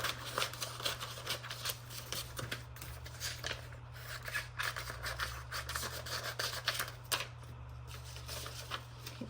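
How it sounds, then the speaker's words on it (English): A laminating sheet being trimmed on a paper trimmer, a quiet run of rapid scraping, rubbing strokes and small clicks over a low steady hum, no talk. "trim down my laminating sheet as well"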